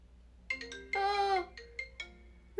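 A melodic phone ringtone chimes in short repeated tonal notes, clear and fairly close, with a sustained bright passage in the middle.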